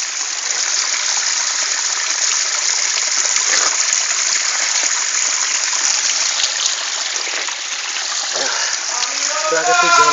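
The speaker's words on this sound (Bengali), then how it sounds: "প্রাকৃতিক ঝর্ণা।" Natural waterfall in Khagrachari, Bangladesh, splashing and gushing loudly and steadily throughout, with water rushing close by and voices briefly heard near the end.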